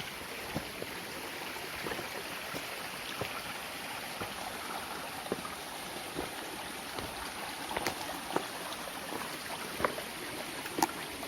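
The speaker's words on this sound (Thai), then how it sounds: "ก็ข้างบนก็เจอน้ำตกอีกแล้วครับ" A forest waterfall and stream in deep jungle, heard as a constant rushing wash of water, fairly even and moderately distant, with faint small clicks and no talking.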